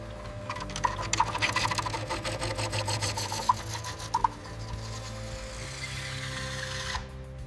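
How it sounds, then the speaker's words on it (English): Polishing of the gunmetal finish on a 1940 Mercedes-Benz 540K, a steady rapid rubbing and rasping against the metal panel, close and continuous, with a few sharp clicks and no talking. "This final polish reveals the true depth of the gunmetal finish"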